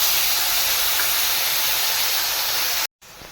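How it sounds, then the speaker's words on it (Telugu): Tamarind pulp hitting a hot pan for pulihora, a loud, steady broadband hiss and sizzle that cuts off abruptly near the end. "ఇప్పుడు ఇందులో మనం చింతపండు గుజ్జును వేసుకోవాలి."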